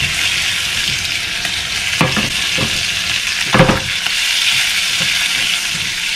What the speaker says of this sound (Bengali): চিংড়িটাকে অল্প একটু শর্টে করে নেব, খুব অল্প, মানে জাস্ট সাঁতলে নেব